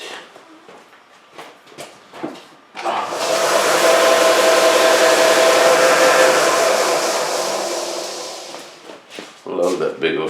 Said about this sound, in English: I love that big old sander, man. Harbor Freight.